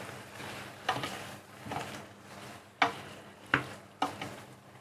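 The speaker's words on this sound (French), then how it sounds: "On va remuer un coup quand même la garniture." Spoon stirring the vegetable garnish in a hot pan for chicken basquaise, soft scraping strokes with a few sharp clinks against the pan over a low sizzle, with no talking.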